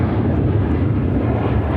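Boeing 737-800 airliner taking off at Chicago O'Hare, a loud, steady low jet-engine roar that holds without a break.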